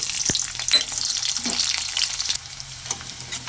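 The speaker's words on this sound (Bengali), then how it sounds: "এবার ওই তেলের মধ্যে দেবো শুকনো লঙ্কা, পেঁয়াজ কুচি।" Dried red chillies and chopped onion fry in hot oil in a pan, giving a steady close sizzle and crackle with a few stirring scrapes. No voices are heard.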